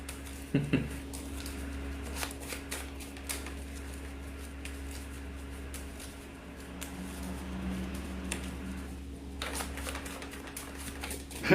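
A deck of Yu-Gi-Oh trading cards is shuffled at a table in soft, rapid bursts of riffling and patter. The sound is quiet and close, with a low steady hum underneath.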